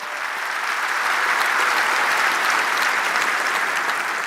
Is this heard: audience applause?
yes